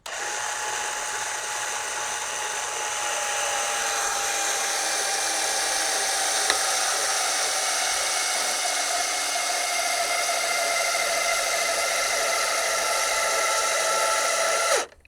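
An AGM Electric Jack PRO motor whines steadily at close range for about fifteen seconds while lifting a Can-Am X3, its high pitch drifting slightly before it cuts off abruptly, with no talk.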